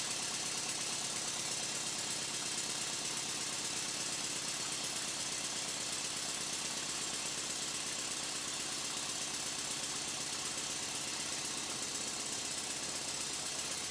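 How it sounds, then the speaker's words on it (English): A model steam engine runs steadily off a large, very hot boiler on a bench, a continuous even chugging hum that holds level throughout with no voices. "I just want to see how long the engine runs for before it stops."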